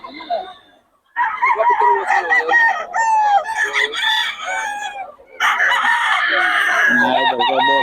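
A young rooster (stag) at a farm crows repeatedly and clucks, loud and close, with a short quiet gap between calls.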